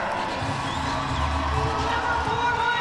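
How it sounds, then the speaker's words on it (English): A crowd cheering and shouting steadily throughout at a roller derby playoff game in Portland, dense and continuous, with a voice talking over it. "A very nice crowd here."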